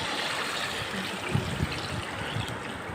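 Water pours steadily into a pot of braised chicken curry, a close continuous gushing trickle with a few soft splashes and no speech.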